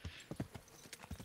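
Horse hooves clip-clop at a brisk walk in the medieval video game Kingdom Come: Deliverance, a quick run of close, distinct thuds with no talking.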